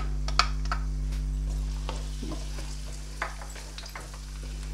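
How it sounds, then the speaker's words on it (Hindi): Finely chopped garlic, seven or eight cloves, hits hot oil in a pan with a soft continuous sizzle, punctuated by a few sharp clicks and scrapes of stirring against a steady low hum. "ये ज़रा मेरा ऑयल थोड़ा गर्म हो गया है, तो मैं इसमें ये मैंने लहसुन चॉप करके रखा था।"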